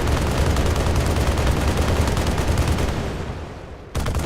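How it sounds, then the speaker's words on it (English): Gunfire from a sniper and an explosive-armed enemy in an Unreal Engine 5 game: a dense, continuous barrage of shots and blasts that thins out, cuts off briefly near the end, then resumes. "now we got a sniper and an explosive dude shooting at me"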